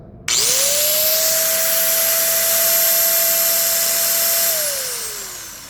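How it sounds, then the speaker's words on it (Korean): An electric angle grinder switches on and spins up to a steady, loud motor whine with a sustained high tone, holding for several seconds before starting to wind down at the end. "그라인더를 사용할 때 전기 코드를 뽑으시고 스위치를 이렇게 올리면 회전을 하게 됩니다"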